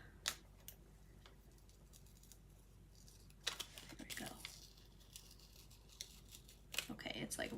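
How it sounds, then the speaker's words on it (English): Paper tears slowly by hand in intermittent, quiet ripping and crinkling bursts spread unevenly over a low, hushed background. "Oh, it's ripping my paper."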